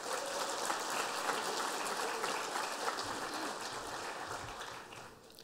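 A conference audience claps together in a dense, even wash of applause at the AusCERT 2019 welcome session on the Gold Coast, heard fairly faint and tapering off toward the end.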